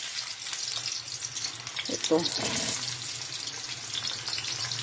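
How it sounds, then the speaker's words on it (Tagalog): Carrots and potatoes sizzle and fry in hot oil in a pan, with occasional stirring clatter and a brief spoken word. "Lagay ko na aking carrots at saka patatas. Saglit lang, isagisa ko lang siya."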